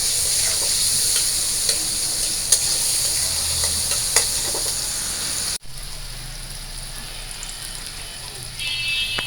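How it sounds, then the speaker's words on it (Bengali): Onions frying in oil in a pan give a continuous bright sizzle with stirring scrapes. It is close and fairly loud, with a brief cut partway through. "তো আমার পেঁয়াজটা ভাজা হয়ে গেছে"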